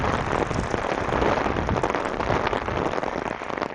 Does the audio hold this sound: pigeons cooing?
no